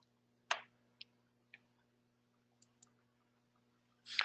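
A handful of sharp, quiet clicks spaced unevenly over a faint steady hum, like a computer mouse being pressed, with a slightly louder click at the end.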